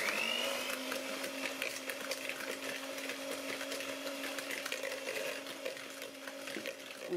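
An electric hand mixer whirs steadily while blending batter with beaten egg whites for nut chocolate bites, a continuous motor drone running the whole time at moderate level with no talk.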